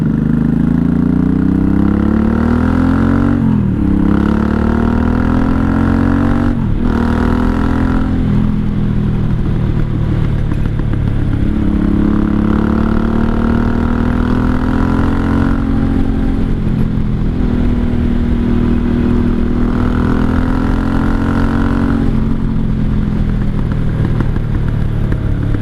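A 1983 Honda Shadow VT750C motorcycle engine runs steadily while riding, with loud continuous engine drone that dips and rises through gear changes and occasional throttle swells.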